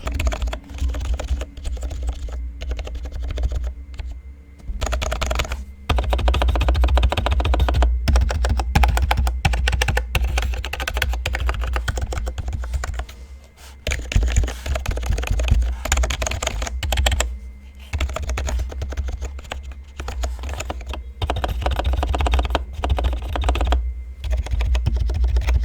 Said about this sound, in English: I definitely think this one sounds better